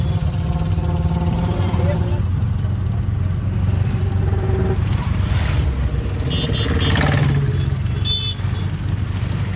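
An auto rickshaw engine drones steadily and fairly loud from inside the moving vehicle on the way to Somnath temple, with a voice talking over it.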